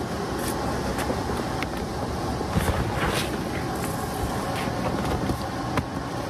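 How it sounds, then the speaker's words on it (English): A blower pushes air through a Vevor 12-inch by 25-foot flexible duct, producing a steady, loud broadband whoosh that holds constant throughout with no pauses. "I'm gonna turn the blower on."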